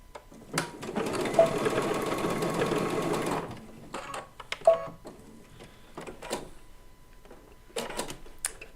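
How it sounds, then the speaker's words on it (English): A sewing machine stitches down the edge of a quilt in a steady mechanical whir lasting about three seconds, followed by scattered clicks and short handling noises, close by. "we'll get that edge sewn down."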